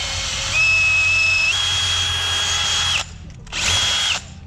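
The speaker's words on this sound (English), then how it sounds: "The drill's not happy." Power drill working on a ranch truck rebuild, running with a loud, steady whine close up, the pitch rising and then holding, briefly stopping and then spinning again, with no voices over it.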